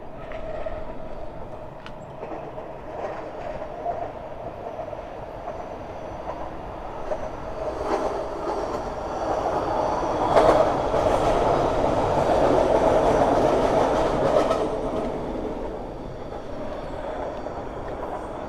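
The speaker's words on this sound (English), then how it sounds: "Oh, we got a northbound train." A northbound transit train in Toronto passes by, a long steady rumble of wheels on rails with clickety-clack and faint squealing, swelling louder midway and then easing off, heard from trackside without talk.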